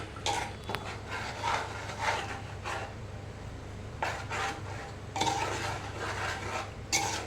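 Chicken biryani being mixed in a pot, a series of soft clinks and scrapes of a utensil against metal at an irregular pace, close but quiet over a low background hum.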